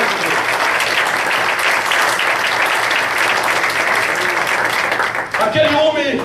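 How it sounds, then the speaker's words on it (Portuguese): A church congregation applauds loudly and steadily for about five seconds, the dense clapping thinning near the end as a voice begins to speak. "Se é para Jesus, aplauda de verdade."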